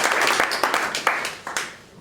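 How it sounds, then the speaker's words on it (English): Brief scattered applause from a small audience at a weekly startup meetup, a few uneven claps that thin out and fade over two seconds. "Let's give them a round of applause"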